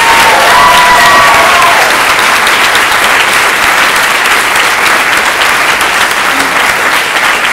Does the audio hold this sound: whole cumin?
no